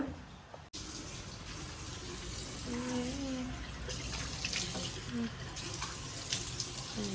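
A water tap runs steadily into a sink during face washing and tooth brushing, a constant close rushing hiss with faint clinks and small splashes.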